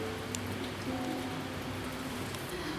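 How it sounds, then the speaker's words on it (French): Steady rain falls without pause, a dense even hiss of drops on surfaces with a few louder individual pattering hits and no voices. "Ouais, il pleut."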